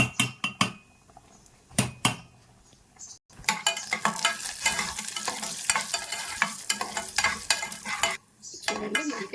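Cashew nuts fry in a pan while being stirred for a sweet pongal with vermicelli and moong dal, giving a steady close sizzle with scraping and clinking of the spoon, framed by a few sharper knocks before and after.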